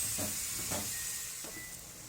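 Salted chicken pieces with spices fry in a pan, giving a close steady sizzle and hiss with a few soft clatters from stirring, no voices.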